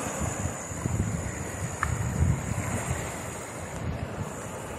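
Water from the São Francisco River transposition washes and laps continuously at Riacho Seco, Brazil, under gusts of wind buffeting the microphone, a steady rushing texture with no voices.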